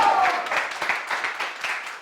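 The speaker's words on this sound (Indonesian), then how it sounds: "Berikan sorak-sorai itu" Cheering and applause from an Indonesian church congregation during a sermon, a soft rolling patter of clapping with vocal cheering blended in, fading gradually.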